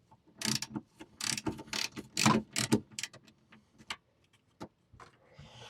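Quick bursts of ratcheting clicks, close and fairly quiet, coming in uneven runs as a ratchet turns, removing the side step bolts on a Ram 1500 pickup, then tapering off.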